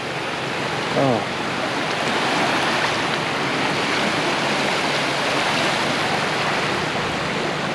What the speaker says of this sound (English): Made it to the beach, man. Look how beautiful this is.